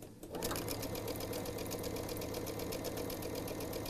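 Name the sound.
sewing machine chain piecing quilt charm squares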